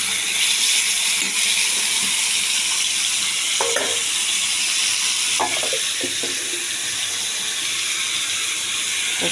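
Potatoes fry in an oil-filled pan for aloo posto, a steady close sizzle broken by scraping stirs with a spatula around the middle and again a little later, and no voices are present.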